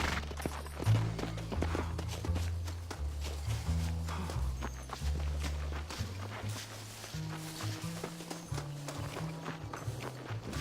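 Horse hooves clip-clop at a steady walking pace in the Red Dead Redemption video game, loud and close, with music and in-game ambience underneath.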